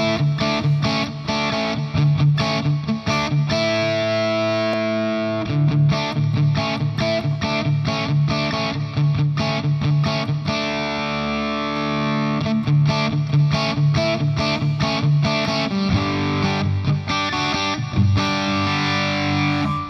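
An electric guitar plays through a cranked amp simulation in ToneStack Pro with the standard limiter, giving loud, continuous distorted chords and riffs with a dense, compressed sound and no pauses.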